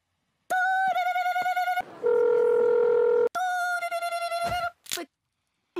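A telephone rings in repeated harmonic electronic trills, broken by a steadier tone in the middle, loud and close with no speech.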